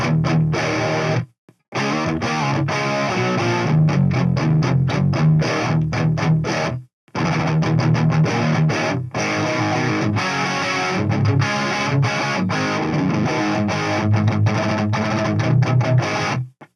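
A high-gain electric guitar played straight into a tube amp with no pedals, giving a gritty, distorted rock tone. Chords and riffs ring out loudly and continuously, broken by a few short silent pauses.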